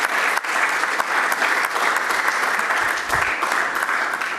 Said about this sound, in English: another round of applause for the Chief Executive